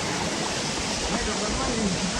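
Waterfall water crashes at the Randha or Vasundhara falls in hilly country, a dense, even roar that holds steady throughout with no clear break.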